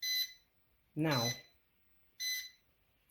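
A heat press timer alarm beeps three times, shrill electronic bursts spaced about a second apart, with a man's short spoken word overlapping the second beep.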